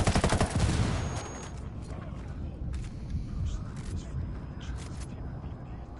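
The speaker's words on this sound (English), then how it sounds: "Fucking Apache's about to fire" An Apache attack helicopter in Ghost Recon Wildlands opens fire in a loud, dense burst of rapid shots. Scattered quieter gunfire and game noise follow, and voices talk over it.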